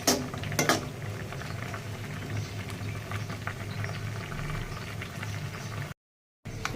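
Maggi noodles simmering in a pot of boiling water, a steady bubbling patter that runs throughout with a few louder clinks near the start and a brief dropout near the end.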